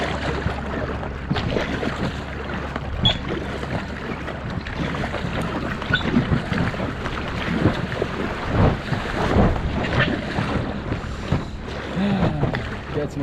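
A boat passes nearby on Schiffenensee lake amid wind buffeting the microphone, with sloshing wake waves and a low engine rumble; faint voices come and go.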